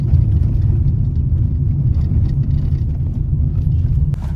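Inside a moving car on a road trip in Karnataka toward Murudeshwar, the engine and road noise keep up a loud, steady low rumble with no talk.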